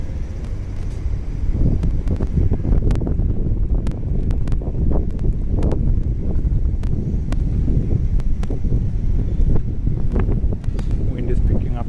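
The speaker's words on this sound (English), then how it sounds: "Wind is picking up a bit again." Wind gusting across a Tokyo street, a steady broadband rush with mic buffeting mixed with passing traffic, continuous and fairly loud throughout.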